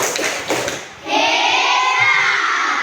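Classmates in a school classroom applaud group 3 after its presentation: about a second of clapping, then a loud, sustained, noisy roar of children's voices.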